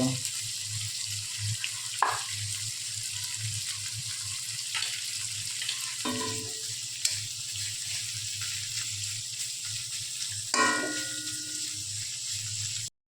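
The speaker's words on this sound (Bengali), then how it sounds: "পেঁয়াজগুলো ভাজা ভাজা হয়ে গেছে, লাল লাল।" Chopped onions and tomato sizzle steadily in a pan with salt, a constant frying hiss broken by a few brief stirring and clinking sounds near the middle and end.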